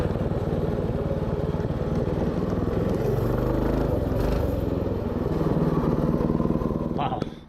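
Mega Moto 224 minibike engine running at full throttle, a loud steady buzzing drone that holds close and constant for the whole ride, with a brief rattle and drop at the end.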